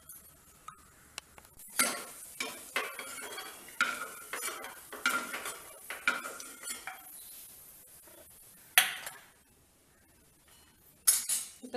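A spoon clinks and scrapes against a pan while ingredients roast in ghee, with intermittent stirring strokes and metallic taps separated by quiet pauses.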